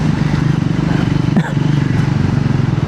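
A Triumph Scrambler 400X motorcycle riding at about 50 km/h in fourth gear, its engine a steady, loud, close pulsing drone with a brief gust of wind noise partway through.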